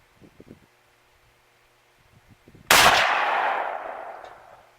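A single loud, close rifle shot fires an 8mm Mauser Hotshot 170 grain FMJ round, a sharp blast with a long decaying echo, preceded by faint handling clicks.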